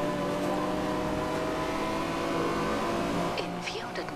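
A Subaru car engine accelerating in the racing game Forza Horizon 2, a loud, steady, droning tone that holds throughout, with faint higher sweeps near the end.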